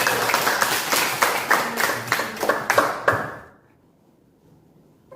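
An audience applauds group 1 after a presentation, a brisk burst of many hands clapping close by for about three seconds before it stops abruptly and the room falls quiet.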